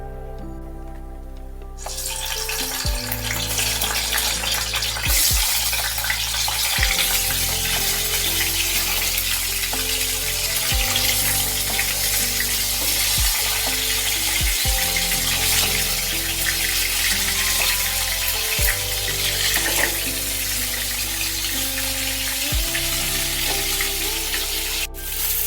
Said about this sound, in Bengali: সর্ষের তেলটা ভালোভাবে গরম হলে পটলগুলো ভেজে নিতে হবে